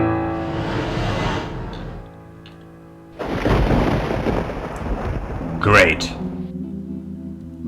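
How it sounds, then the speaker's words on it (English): Thunderstorm in the indie video game Downfall: loud rumbling thunder and rain noise swell after a brief quieter gap, with a sharp crack near the end, while a voice speaks over it. "The storm is coming."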